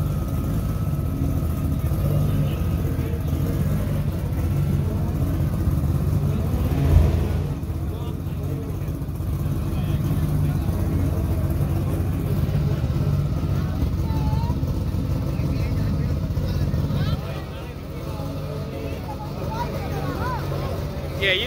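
Import drag race car engine droning and revving hard after a missed shift into third gear, a loud steady roar with a sharp thump partway through, and people talking over it.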